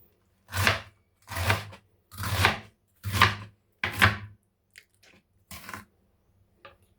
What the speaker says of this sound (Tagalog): natapos na natin yung ating paghiwa sa repolyo